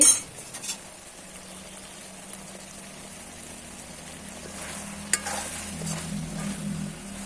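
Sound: transferring cooked okra masala into another pot

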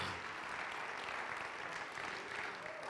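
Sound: congregation hand clapping

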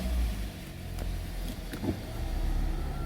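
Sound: Kia K7 2.4 car engine starting

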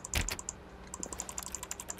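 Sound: mouse clicks in The Stanley Parable video game, like keyboard typing

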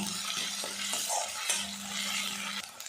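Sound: ginger, garlic and onion being stir-fried in a pan

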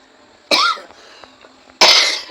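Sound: cough

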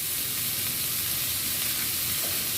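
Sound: frying ingredients with spices for jackfruit seed malabar spinach curry

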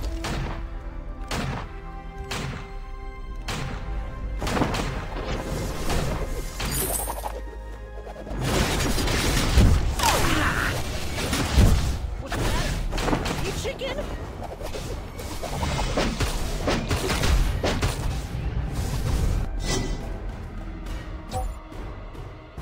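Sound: Ringo shooting enemies in video game Vainglory

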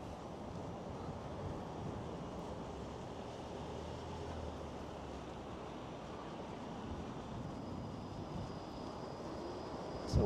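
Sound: wind blowing outdoors while skating in Toronto

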